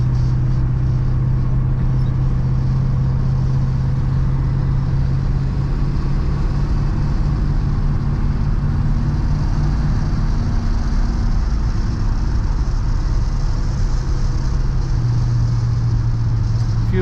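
Steady blower fan and wiper motor hum inside a 1963 Ford Galaxie 500 two-door hardtop, a continuous loud drone with low engine rumble beneath, no talking.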